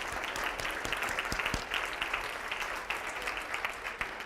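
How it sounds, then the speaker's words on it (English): An audience at a summit mentoring session gives a round of applause: fairly soft, continuous clapping from many people, with a few sharper claps standing out near the front. "they deserve our round of applause for being themselves"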